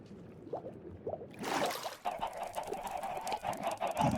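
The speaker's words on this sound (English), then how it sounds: "I thought I would check in on the chickens" Chickens in the game Minecraft give a few short, soft clucks, followed by a denser burst of scratchy clucking and splashy noise that carries on steadily close by, with no talk over it.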